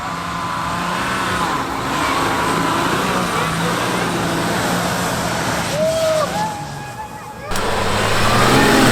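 The 3.0 V6 EcoDiesel in a Jeep Gladiator pickup gives a steady diesel drone with a clattery edge, heard from inside the cab as it pulls and accelerates, with a rising surge near the end and people talking over it.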